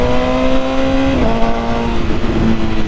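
A BMW S1000RR sport motorcycle engine revs with a loud, sustained high-pitched whine that shifts pitch partway through, under steady road and wind noise and with no talking.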